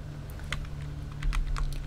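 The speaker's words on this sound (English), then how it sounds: "hit C on your keyboard" Keys tapped on a computer keyboard, several light, faint clicks spaced irregularly over a constant low electrical hum.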